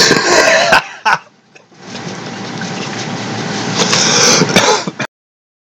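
A few harsh coughs up close, followed by a long, steady rushing noise like running liquid.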